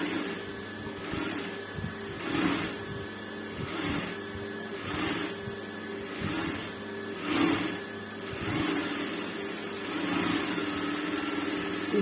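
A sewing machine stitches a work-finished blouse, its motor whirring in steady runs with rhythmic pulses of needle clatter, fairly close and continuous with no talk.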